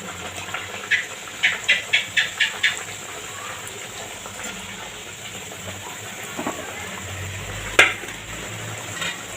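Ash gourd slices frying in a pan over a lowered gas flame give a steady, soft broadband sizzle, with a short run of crisp ticking crackles early on and one sharper pop later. No one speaks.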